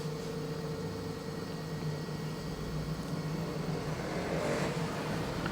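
The wheel of a Gaura electric bike spins steadily on cruise control at 40, producing a constant motor hum with faint whine tones over even road-like noise, close and uninterrupted.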